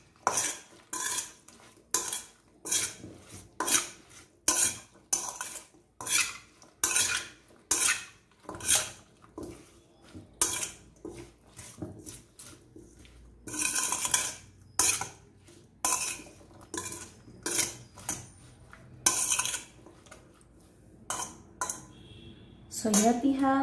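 Instant kimchi-style vegetarian salad of vegetables being mixed with metal utensils in a bowl, giving repeated clinking and scraping strokes at a steady rhythm, close and fairly loud, with no talking.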